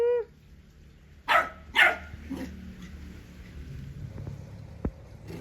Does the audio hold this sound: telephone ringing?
no